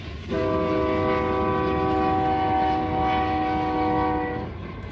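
A train rolls past near a state park, sounding a long, loud multi-tone horn blast that holds for about four seconds over a rumbling background of rail noise.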